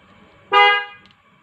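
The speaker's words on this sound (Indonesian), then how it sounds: "Kemudian klaksonnya kita cek juga" A Toyota Innova that will not start has its horn checked: one short, loud, clear honk close by with no other sound around it.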